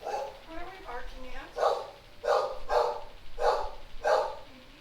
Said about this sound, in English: I'm going to see what they're barking at.